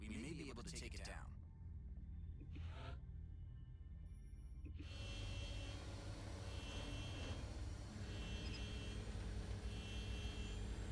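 An interceptor jet launches in the XCOM video game: a broad, steady roar of engine thrust swells in and holds, with voices faintly under it.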